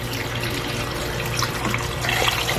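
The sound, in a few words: water poured into cooking pot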